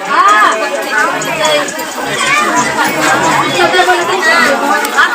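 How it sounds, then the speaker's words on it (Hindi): A large crowd of pilgrims chatters at the Goriya Baba shrine in Bagwa Paharpur, a close, busy babble of many overlapping voices that continues steadily throughout. "देखिए इतना भीड़ है, इतना भीड़ है"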